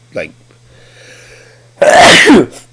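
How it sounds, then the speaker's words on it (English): A single loud, close sneeze bursts out after a short quiet intake of breath. "sneezing"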